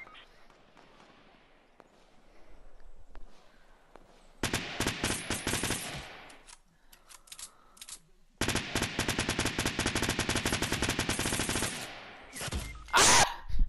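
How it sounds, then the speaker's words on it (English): Gunfire in the Fortnite video game comes in two long bursts of rapid shots after a quieter opening, with players talking around the shooting. "Oh, God, I'm getting shot at."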